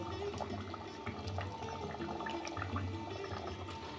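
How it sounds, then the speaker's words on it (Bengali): Cabbage muitha dumplings go into a pot of simmering potato broth, with a faint, steady watery bubbling and soft liquid movement throughout, heard quietly and without speech. "এবার দিয়ে দিচ্ছি মুইঠাগুলো"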